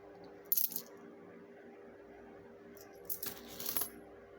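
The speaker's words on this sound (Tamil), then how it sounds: "ஸ்கேர் நாணயம்" A brass 5 rupee scare coin, uncirculated, is handled, giving two short bright metallic clinks about three seconds apart in an otherwise quiet room.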